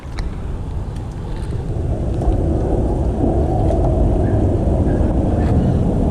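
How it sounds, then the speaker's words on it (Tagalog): Steady, roaring wind from the shore buffets the microphone without a break, a dense low rumble with faint higher hiss, loud and continuous throughout. "Grabe kusog sa hangin sa gawas nitas may baybayon"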